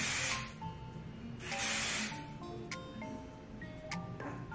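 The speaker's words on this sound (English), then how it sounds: "what I like to do is just hold it up like this and spray it like that" Hairspray from an aerosol can is misted onto lifted-up hair in two long hissing bursts, close and fairly loud, followed by quieter clicks and light handling noises.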